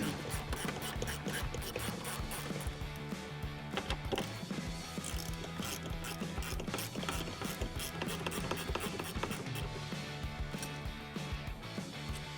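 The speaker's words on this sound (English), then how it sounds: "Now I'm going to switch over to my 1/4" drive ratchet because the ones under the dash are a little bit tough to get to." A 1/4 inch drive ratchet turns bolts under the dash of a 2009-2022 Dodge Challenger. It gives a fast, continuous clicking whir that runs for the whole stretch, close and steady, with no talking.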